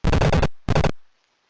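Two short bursts of rapid machine-gun fire in the F-117A Stealth Fighter video game, sharp and loud, then silence.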